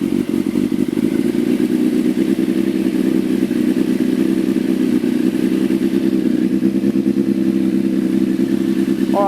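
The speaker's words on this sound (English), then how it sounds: "So we're going to start the bike up." A motorcycle engine runs at a steady idle with a close, loud, continuous rattling throb, alone and without talk.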